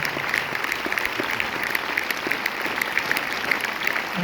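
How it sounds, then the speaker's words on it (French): Enthusiastic audience applause at a film premiere screening at Pathé Boulogne, dense and continuous clapping from a full room, close and loud for the whole stretch. "Je vais vous demander d'applaudir une deuxième fois pour le réalisateur de la musique et son acteur."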